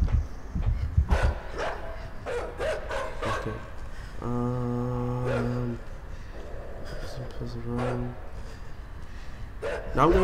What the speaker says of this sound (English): This dog is vicious.